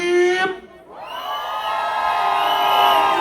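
Women in a crowd at a sound clash on a cruise ship scream and cheer loudly in a sustained, high-pitched wave that swells after a brief dip.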